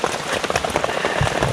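Heavy rain pours down on a mountain forest, a loud, dense patter of drops hitting leaves and surfaces up close.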